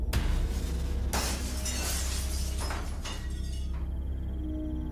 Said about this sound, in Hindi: अचानक आईना जोरदार आवाज के साथ टूट गया।